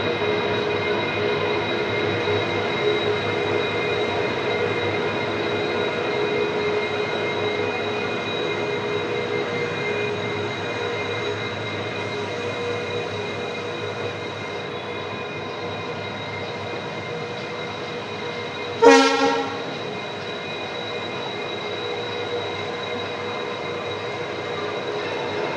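A WDG4D diesel locomotive hauling the Rajkot-Porbandar Express near Gondal station, a steady droning engine and rolling rail noise held for many seconds, with a brief sharp squeal or clank near the end.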